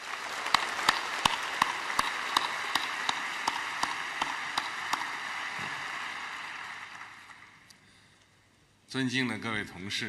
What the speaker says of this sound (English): Let us welcome them with a warm round of applause.